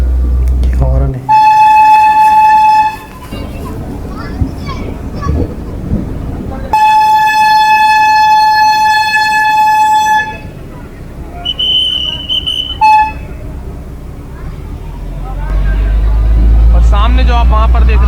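A rail bus horn blares in two long, loud steady blasts with a shorter toot between, over rumbling rail noise and people talking, on the Mathura to Vrindavan line in India.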